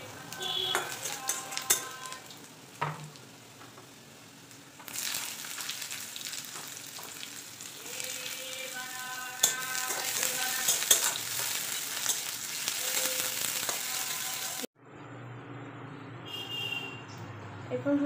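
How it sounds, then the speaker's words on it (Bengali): Chopped garlic and onion frying in hot oil in a wok give a steady, loud sizzle with scraping and stirring throughout. A fresh burst of crackle halfway through is followed by a quieter, hissier stretch near the end. "এরপর এই গরম তেলের মধ্যে একে একে আমরা রসুন কুচি আর পেঁয়াজ কুচিটা দেব।"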